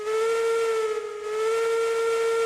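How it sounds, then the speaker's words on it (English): A steam locomotive whistle in the Railroads Online game, the Class 70 engine, blows one steady, loud, sustained tone for about two and a half seconds, close and alone, with a slight dip midway. "Pull that whistle."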